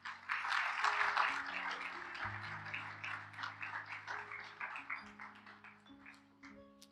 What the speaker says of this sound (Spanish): Dele palmas, dele palmas.